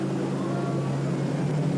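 Four-stroke LPG Mercury outboard engines on racing boats roar steadily, a dense continuous drone at close range with no break.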